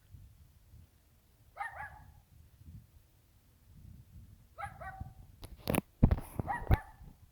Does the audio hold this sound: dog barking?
yes